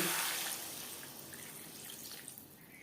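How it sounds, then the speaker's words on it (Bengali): Water pours into a pan of potato and pointed gourd curry, a brief gushing splash that starts strong and tapers into softer trickling and drips. "তিন চার মিনিট নাড়াচাড়া করে নেওয়ার পর দিয়ে দেব জল"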